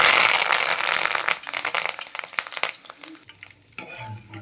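Curry leaves crackle and sizzle loudly as they drop into hot oil in a pan, then the frying fades to a softer spatter with light clinks near the end.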